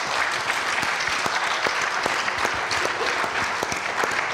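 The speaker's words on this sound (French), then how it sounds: "Oui, on peut applaudir." Applause from a church audience after a pastor's talk, steady and dense with sharp individual claps throughout, fairly close and without voices.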